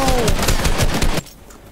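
Rapid automatic gunfire in the Fortnite battle royale game fires as a quick string of sharp, evenly spaced shots, then stops abruptly after about a second, leaving a quieter tail.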